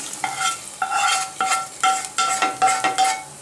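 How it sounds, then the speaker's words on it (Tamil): Ghee tempering with cashews poured into hot pepper pongal and stirred with a spoon, giving a loud sizzle under repeated rhythmic scraping strokes against the vessel, close and continuous. "நம்ம தாளிச்சு வச்சுக்கிறத பொங்கல் எடுத்து கொட்டிடலாம்"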